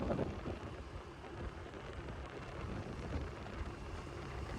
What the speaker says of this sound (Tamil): நல்ல மழை ஒன்று அடிக்குது.